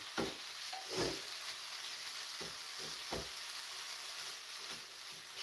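Food searing in a hot pan for homemade tacos, a steady close sizzle with a few soft stirring scrapes and no talk.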